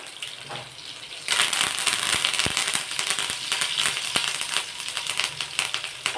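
Curry leaves, green chillies and a dried red chilli hit hot oil in a tempering. After a quieter first second comes a sudden loud burst of dense crackling and sharp spluttering pops that keeps going steadily.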